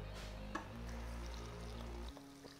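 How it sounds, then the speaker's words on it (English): Boiling water poured into a pot of beef stroganoff with mushrooms, a steady close liquid pour over low hum lasting about two seconds, then stopping. "Some boiling water."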